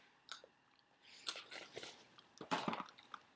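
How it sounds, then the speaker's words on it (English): A Siberian Husky crunches a Milk-Bone biscuit, close and fairly quiet, with several sharp cracking bites and chewing bursts. "She loves those. The milk bone crunchy."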